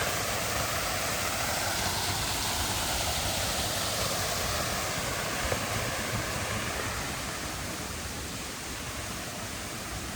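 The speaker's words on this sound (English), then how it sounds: "little waterfall there" Small waterfall in Glen Howe Park, Wharncliffe Side, Sheffield, giving a steady, broadband rush of falling water that holds constant throughout, close and fairly loud with no talking.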